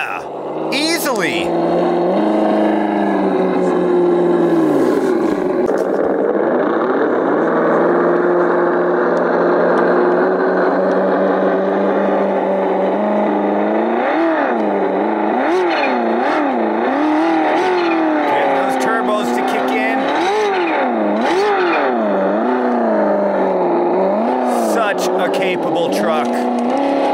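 A Vaterra Ascender 4x4 Chevy Blazer RC crawler on a backyard trail course, its small electric motor whining continuously with rising and falling pitch as it climbs and crawls, close and loud, with a few knocks and rattles.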